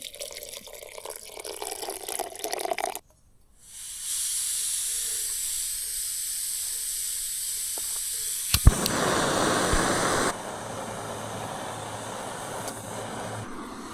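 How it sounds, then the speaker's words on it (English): Water heating toward a boil in a pot of rolled oats with brown sugar on a camp stove outdoors, a steady broadband hiss that rises and grows louder partway through, with a brief clatter and no speech. "looks like it's like kind of boiling in there"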